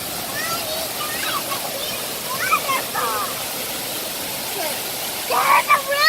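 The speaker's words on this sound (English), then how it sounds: "That is super huge. Huge. Waterfall." Hayden Falls waterfall in Columbus, Ohio, with a steady broadband rush of falling water throughout and people talking intermittently over it.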